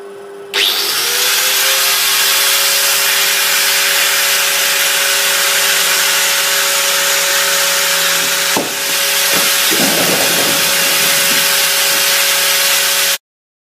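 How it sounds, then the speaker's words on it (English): A drill press cuts off a steel suspension bolt for a DT400D series motorcycle: a loud, steady motor whine runs nearly the whole time, with a brief break and a few rougher grinding bursts near the end before it stops. "I'll cut it off on the drill press"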